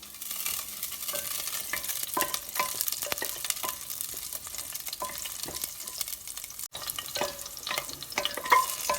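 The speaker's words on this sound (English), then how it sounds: "I'm going to put the green chilies as well. Give it a good saute." Green chilies sautéing over a reduced flame in a pan for a Kerala-style vegetable stew, a soft continuous sizzle with frequent spatula scrapes and taps, close and moderately quiet.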